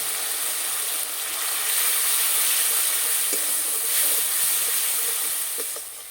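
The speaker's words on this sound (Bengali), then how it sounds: "অল্প একটু জল দিয়ে মশলা খুব সুন্দর করে কষিয়ে নেব।" Spices for Kashmiri aloo dum sizzle and hiss in hot oil in a pan, a loud, steady frying crackle with occasional soft stirring knocks, close up and without talk.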